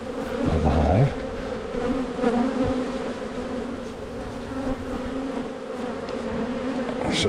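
Honey bees buzz steadily around an open hive during an inspection, a dense close drone with individual insects flitting nearer at moments.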